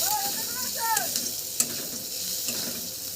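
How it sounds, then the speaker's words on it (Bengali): Onion sizzles in a pan while a spatula stirs and scrapes it now and then, a steady close frying hiss with brief clinks and no voices. "পেঁয়াজটা হালকা ভাজা হয়ে গেছে।"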